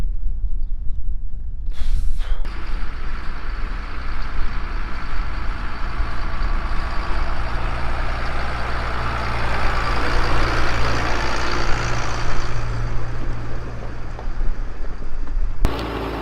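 A Massey Ferguson 135 tractor engine runs steadily at close range, a loud, constant low diesel rumble that continues almost unchanged throughout, with brief dropouts near the start and end.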